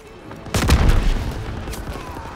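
Artillery shells bursting on a beach in Call of Duty WW2, a sudden close boom about half a second in, followed by rolling rumble and further muffled blasts fading across the rest.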